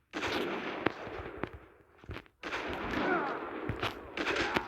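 Sniper rifle shots ring out in a first-person shooter video game, several sharp loud cracks spaced irregularly over sustained rumbling battle noise with a brief lull midway.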